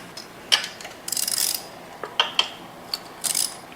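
A ratchet with an extension clicks as it works a valve cover bolt on a first-generation Kawasaki Z1000 motorcycle, with short bursts of close, crisp ratcheting against a quiet background.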